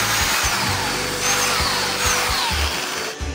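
A power drill bores holes: a loud, continuous motor whine with repeated dips and bursts as the bit bites and eases off several times, close up and with no speech.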